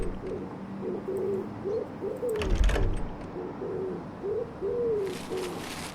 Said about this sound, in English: either a pigeon or a dove.